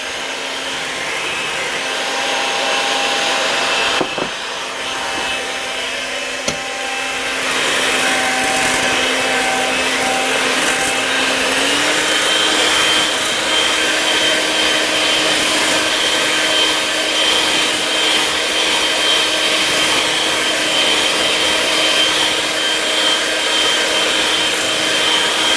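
Whisking sugar into cake batter for a whipped cream layer cake: a steady, close mechanical whir runs without a break for the whole stretch, with no talking.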